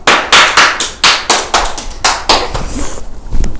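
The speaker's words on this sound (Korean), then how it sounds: "박수 좀 칠래?" Close, loud hand clapping, about a dozen sharp claps in an uneven rhythm, probably from one or a few people, heard alone at a Christmas live stream.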